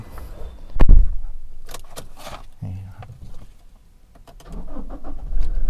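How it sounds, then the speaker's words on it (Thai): A Toyota Revo four-door lifted pickup with automatic transmission starts up with its key, with a sharp jangle and clunk of keys and door, then the engine turns over and idles. Someone talks briefly and faint clicks follow. "เดี๋ยวไปสตาร์ทเครื่องพร้อม ๆ กันเลยนะครับ"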